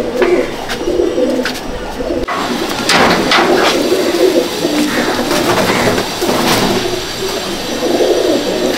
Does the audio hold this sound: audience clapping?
no